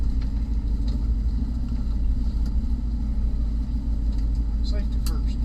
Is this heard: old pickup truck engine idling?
yes